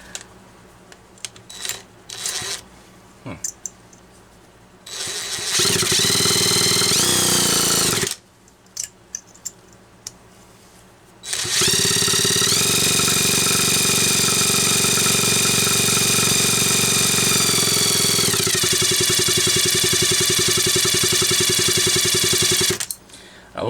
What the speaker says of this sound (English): love how low in RPM these things will fire when you got a good ignition system